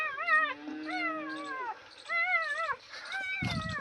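Three young puppies whine and whimper in high, wavering, drawn-out cries that come in several bursts, close by and fairly quiet.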